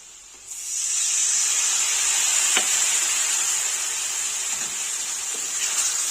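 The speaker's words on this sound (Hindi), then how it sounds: "अब मैं इसमें 3 टेबलस्पून वाटर ऐड करूंगी।" Water poured into a hot pan of sizzling masala spiced with chili powder for a chicken gravy sets off a loud, steady steam hiss that swells at once and holds for several seconds, with faint stirring scrapes underneath.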